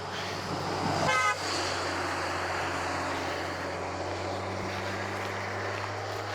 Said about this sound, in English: comes a loud truck.